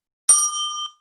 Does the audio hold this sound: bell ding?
yes